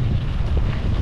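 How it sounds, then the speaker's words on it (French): Loud, constant roar of strong wind blasting across the microphone during a triathlon, dense and unbroken for the whole brief moment. "bah déjà il y a énormément de vent"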